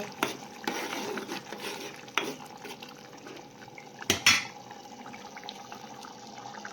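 A spoon stirs boiling dal in a pot after garam masala is added, producing bubbling and watery churning with scraping and clinking metal knocks against the pan, close by, including a sharper double clank near the end.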